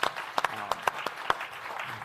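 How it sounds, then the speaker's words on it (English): A few sparse, distinct claps sound from the audience after a woman's business pitch at a competition, quiet and irregular against a faint room background. "she deserves a huge round of applause"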